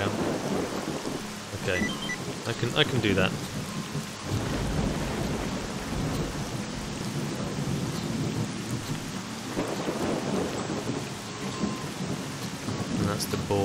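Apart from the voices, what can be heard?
rain and thunder in video game S.T.A.L.K.E.R. Shadow of Chernobyl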